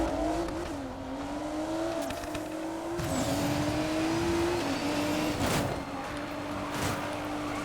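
Audi S5 race build with all-wheel drive and nitrous in Need for Speed Payback, its engine droning loudly and continuously at high speed with pitch shifts through gear changes and brief tire noise.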